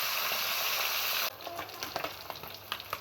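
Fish frying in oil, opening with a loud dense sizzle that abruptly drops to a quieter crackle with intermittent spits and pops, close and without speech.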